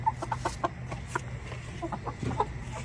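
Backyard chickens cluck in their coop at dusk, a steady scatter of short, soft clucks and murmurs from several birds close by, with no talking over them.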